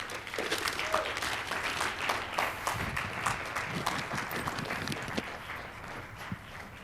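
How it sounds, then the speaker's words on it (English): A conference audience applauds a speaker, sustained and fairly dense clapping from many hands at moderate level that holds steady and tapers slightly at the end. "Let's give a round of applause to Victor Sagalovsky."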